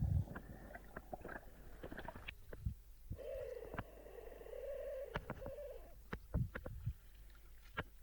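Paddle strokes from a kayak on the Atlantic off the Algarve, Portugal, towing a friend on a mini float, come as a run of uneven splashes and knocks with a low steady rumble underneath.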